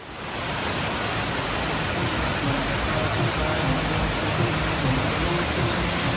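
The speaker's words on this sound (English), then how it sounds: "So let me show you a waterfall at El Yunque Park." Waterfall in El Yunque rainforest, Puerto Rico, a steady, dense rushing roar of falling water that fills the whole scene, loud and unbroken from start to finish.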